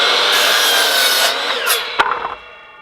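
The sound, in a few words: sawing a piece of lumber for sawhorse legs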